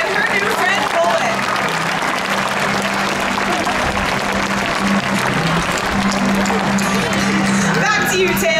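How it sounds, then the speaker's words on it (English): A SeaWorld San Diego dolphin show crowd breaks into loud, sustained applause, dense clapping filling the stadium with cheers and a few voices mixed in throughout. "please give me a big round of applause for Ashley and her new friend, Bullet"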